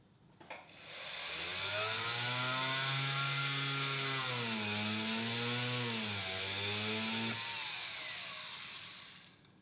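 A small jeweller's drill opening up a hole in a piece of jewellery for diamond setting whines with a steady high-pitched tone after a brief start, dips and rises in speed partway through, then cuts off.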